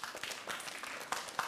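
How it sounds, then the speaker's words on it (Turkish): Studio audience at a Turkish television talk show applauding, a dense patter of many hands clapping at moderate volume, steady throughout with a few sharper claps standing out. "Mahsun Kırmızıgül'ü alkışlayalım ve hemen geçelim"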